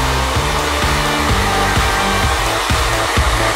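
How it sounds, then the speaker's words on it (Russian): A hair dryer runs steadily while drying hairspray-covered hair, a loud, close, continuous blowing whir with a slightly pulsing low hum and no speech. "Используем фен. Это ускорит процесс."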